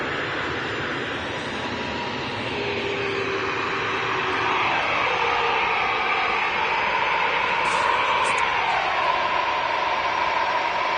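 An EasyJet jet airliner at Manchester Airport, a sustained engine roar with a rising and falling whine that builds slightly in loudness over about eleven seconds, heard from a spotting position with steady background noise.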